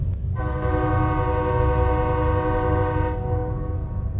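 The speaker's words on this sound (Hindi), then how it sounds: "कुछ समय बाद ट्रेन आ जाती है और वह ट्रेन अपने प्लेटफॉर्म पर रुक जाती है।" Horn of a train arriving at a platform, one long sustained blast over a steady low rumble of the moving train, loud and close.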